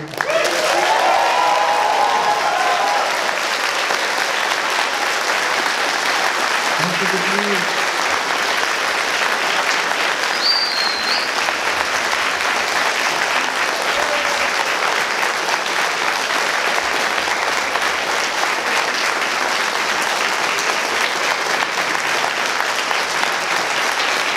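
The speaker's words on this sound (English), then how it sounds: "I would ask for a huge applause for our guest, Larson." A convention panel audience at Czequestria 2017 applauds guest M.A. Larson, steady, dense clapping and a bit of cheering that keeps going for over twenty seconds with no break, loud and close.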